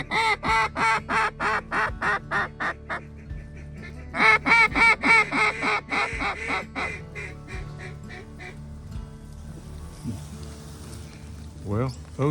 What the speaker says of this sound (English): It's a big, nice flock of ducks.